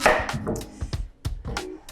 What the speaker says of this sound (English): the safest way to cut your sweet potato is to put it so it's nice and stable on the chopping board